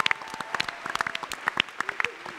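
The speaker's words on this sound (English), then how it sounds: "let's get another big round of applause for our 2 new cast members" Scattered clapping from a Comic Con panel audience for two new cast members of a superhero TV series, individual claps popping irregularly rather than a dense roar, with faint voices underneath.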